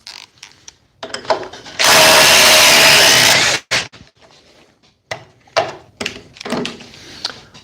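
A cordless oscillating multi tool cuts loudly for about two seconds, its steady harsh buzz strained as it bogs down, then stops, followed by scattered close knocks and handling noises.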